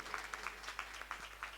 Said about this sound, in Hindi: तालियां चलती रहें।